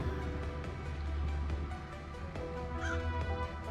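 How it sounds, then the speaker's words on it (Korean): A crow caws in the video game Hello Neighbor 2, a short call ringing out over a steady low game-ambience drone, fairly close and clear. "까마귀"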